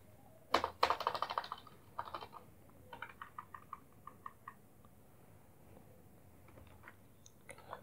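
Computer keyboard typing code in the R language, close and fairly loud, opening with a few heavier clacks then settling into a run of quick, spaced keystrokes that gradually thin out.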